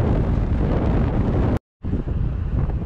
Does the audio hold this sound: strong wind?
yes